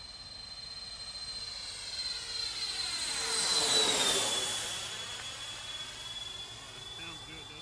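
Freewing MiG-29 Fulcrum RC jet with twin 80mm electric ducted fans at half throttle on its maiden flight, a steady high-pitched whine with a sharp tonal line that swells and bends as it passes close overhead around midway, then fades.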